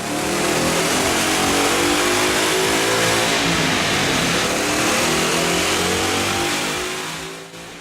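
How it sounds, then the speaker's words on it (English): A 2011-2014 Ford Mustang GT V8 fitted with a BBK cold air intake revs hard on a dyno, a loud, sustained engine roar holding steady for several seconds before easing off at the end. "Let's put the 1768 cold air induction system to the test on the dyno."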